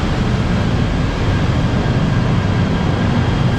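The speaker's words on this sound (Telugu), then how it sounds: "ఫైనల్గా మనం ఎక్కాల్సిన KTM ట్రైన్ వచ్చేసింది బాతు కేవ్స్కి" A KTM commuter train pulls into a station on the Batu Caves line, producing a steady, loud broadband rumble and rush with no distinct breaks.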